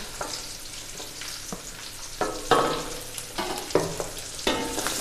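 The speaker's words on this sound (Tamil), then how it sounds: "இப்போ இந்த வெங்காயத்தை நல்லா கொஞ்சம் நேரம் வதக்குவோம்." Onions with four or five garlic cloves sauté in a hot pan for a vegetable broth, a steady sizzle broken by several sharp scrapes and clatters of stirring, close and fairly loud, with no talk.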